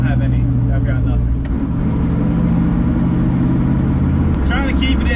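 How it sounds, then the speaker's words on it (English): Car engine held at high revs for engine braking, a steady droning rumble throughout with a brief shift in pitch near the end, under people talking. "Trying to keep it in the high RPMs so it can stop itself. The engine can slow it down."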